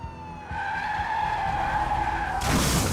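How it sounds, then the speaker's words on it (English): A car brakes hard on a deserted road at night, tires skidding in a loud, sustained screech that runs nearly three seconds and rises into a harsher burst at the end. "When Jerry was blinded by the blue light in the rearview mirror, he hit the brakes hard."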